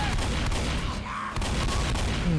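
Shotgun fire in the zombie shooter Left 4 Dead comes in dense, loud rapid bursts with booming blasts that overlap into a near-continuous barrage.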